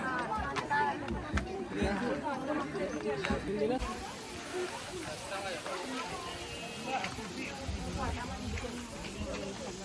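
Dense crowd hubbub at a busy hilltop temple, with many overlapping voices and chatter filling the space close by and continuously.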